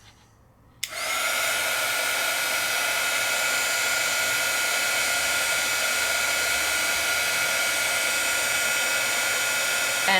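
A heat tool switches on after a moment of quiet and then blows with a loud, steady whooshing roar as it melts embossing powder on rice paper, with no talking.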